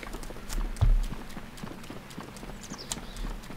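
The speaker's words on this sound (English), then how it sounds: "Let me at least whistle for the horse." Horse hooves clip-clop in The Legend of Zelda: Breath of the Wild, answering a whistle amid rain, with a heavier thud near the start and lighter steady steps continuing under soft ambience.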